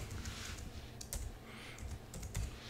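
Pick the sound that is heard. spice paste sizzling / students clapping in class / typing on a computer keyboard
typing on a computer keyboard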